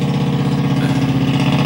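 A loud vehicle engine with no muffler, a close, throaty, rumbling drone that holds steady for a couple of seconds with no other sounds over it.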